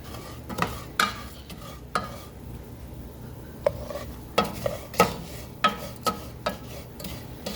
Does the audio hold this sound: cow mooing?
no